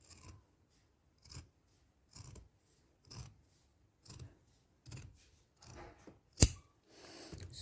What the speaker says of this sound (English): Then I'm going to cut the back piece and the front piece.